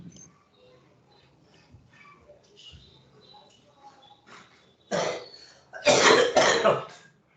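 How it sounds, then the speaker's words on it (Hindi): A few harsh coughs burst out near the end, loud and close, after a stretch of quiet room noise with faint scattered sounds. "सर को खांसी हो गया है"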